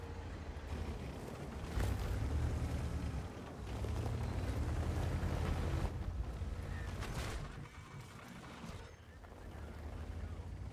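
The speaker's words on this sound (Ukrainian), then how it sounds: "Арта накриває, нічого дивного." Artillery shells land in World of Tanks as deep, rumbling blasts. Heavy booms swell and fade across a continuous roar of engine and battle noise.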